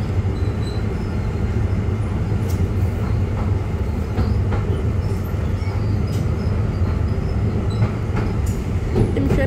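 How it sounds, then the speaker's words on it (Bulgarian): Interior rumble of Sofia's oldest tram rolling along rails, a loud steady low drone with occasional clicks and faint wheel squeals, no voices. "Не знам къде отива този трамвай."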